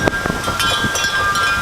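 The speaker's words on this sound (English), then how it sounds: "Oh, I hope this wind is not going to interrupt our filming here." Gusty wind blows outdoors, a steady rushing noise with buffeting against the microphone throughout the short stretch, no talking.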